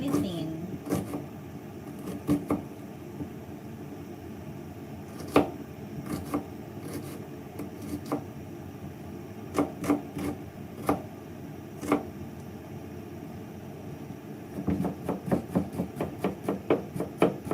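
A knife slices food very thinly against a board in a string of crisp taps, scattered at first and then quick and regular toward the end, under ongoing talk.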